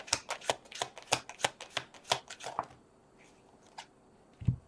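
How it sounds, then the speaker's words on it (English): Tarot cards riffle and snap in a quick rapid run, then a pause with a couple of softer taps and a final thump. "You're telling me to shuffle or to pull another card."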